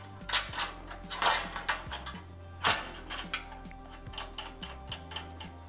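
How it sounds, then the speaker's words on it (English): A sliding cutter is fitted onto the grooves at the front of a tapo-fix CBX-Series pasting machine, giving close plastic clicks, knocks and slides in an uneven series, with no talking. "To attach your sliding cutter, you simply bring it to the front of your pasting machine. It slides into pre-designed grooves."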